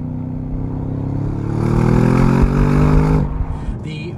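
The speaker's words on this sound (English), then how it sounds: "The V8 engine is exactly what it needs." A 2017 Audi S6 with its V8 accelerates hard, the loud engine note climbing steadily in pitch for about three seconds and then cutting off sharply, followed by a faint clatter.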